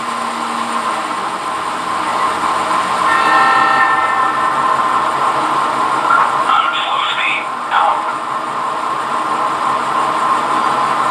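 A Legacy Alco PA model locomotive in Texas Special livery runs with its onboard sound system, a steady diesel rumble and whine that changes with throttle, with short horn-like toots partway through.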